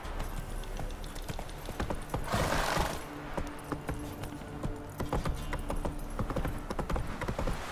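Roach, Geralt's horse in The Witcher 3, trots along with steady clip-clopping hooves, close and continuous, with a brief louder rustling burst partway through.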